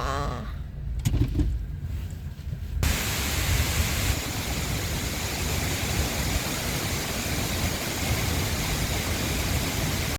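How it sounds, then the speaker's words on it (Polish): Wachirathan Falls in the mountains of Thailand roars as a loud, steady broadband rush of falling water that fills the whole clip after a brief quieter opening. "zajechaliśmy na pierwsze wodospady."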